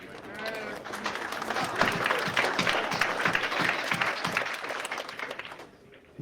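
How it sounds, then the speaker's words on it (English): A crowd at a billiards exhibition applauds a shot, dense clapping that swells and holds for several seconds before fading, with a commentator talking over it. "Nice round of applause there"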